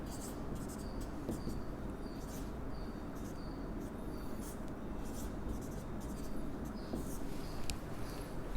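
Chalk or marker writing on a board during an engineering lecture, a faint run of short scratchy strokes in quick bursts over a quiet hum of the room, with no one talking.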